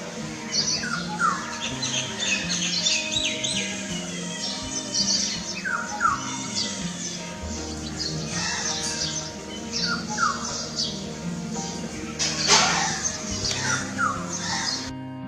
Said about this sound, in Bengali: এখানে আমরা একটু এই পাখির ডাক শুনে নেবো